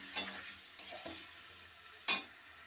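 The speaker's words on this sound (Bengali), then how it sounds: "সামান্য জল দিয়ে দিচ্ছি, দিয়ে এটাকে আমি ভালো করে কষাতে থাকবো।" Egg and soybean curry cooking down with a splash of water, stirred in the pan: a steady soft sizzle with a few sharp scrapes of the spoon, close and alone with no voices.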